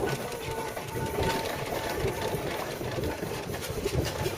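A vintage heavy-duty steam engine at a rally runs with a steady mechanical chugging, a rapid, regular beat and broad hiss, continuous and fairly close throughout.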